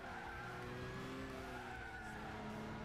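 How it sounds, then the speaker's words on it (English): A race car braking hard in Gran Turismo 6 at Apricot Hill, a sustained high tire squeal with steady engine drone, continuous and fairly quiet. "When I'm going to hit the brakes here. Get around this corner."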